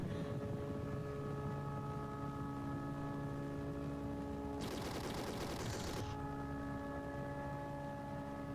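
Rapid burst of automatic gunfire lasting about a second in the horror video game Gyossait, loud against a steady droning background hum that continues before and after.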